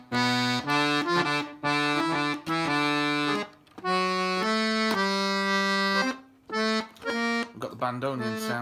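Chromatic button accordion played with the bandoneon stop engaged, a reedy tone sounding a series of sustained notes and chords in short phrases separated by brief pauses, close and clear with no talking.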